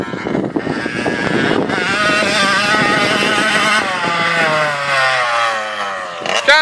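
A motocross dirt bike engine revs hard and climbs through the gears close by, its loud rising whine breaking off at each shift, with no speech over it.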